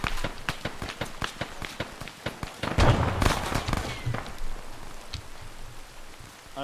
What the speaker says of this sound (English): Hang on, I'm gonna throw a grenade.